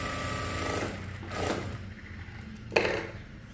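A power sewing machine stitches a fine hem along a saree, whirring in short bursts that stop and restart, fairly quiet and close, ending with a brief sharp click.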